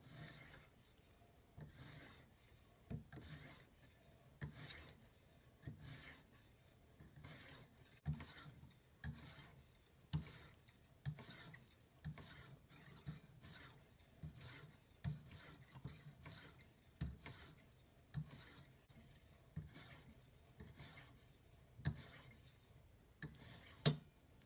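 A fillet knife edge drawn across a fine 7.5 micron stone on a TSPROF sharpening system, giving repeated soft, smooth rasping strokes in a steady back-and-forth rhythm, close and fairly quiet with no talking.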